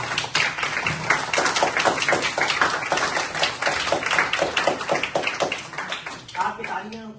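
Clapping from an audience at a community camp gathering, dense and continuous like a crowd applauding, thinning out near the end as a voice starts speaking.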